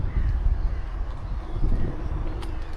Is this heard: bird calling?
yes